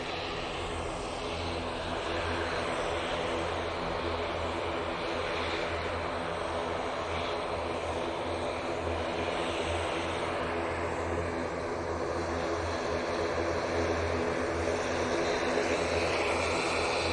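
Airliner departing Manchester Airport on a short flight to Dublin, a steady broad engine roar that holds loud and constant throughout with no voices.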